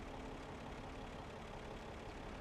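In Farming Simulator 17, a parked tractor engine idles in the dark with a continuous low, even rumble that holds steady throughout, close and unchanging.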